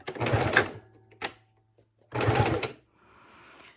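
A sewing machine set to a wide 3.5 stitch runs through fabric on cardboard for a craft tag, in two loud close bursts of rapid mechanical whirring separated by a short quiet pause, with softer rustling at the end.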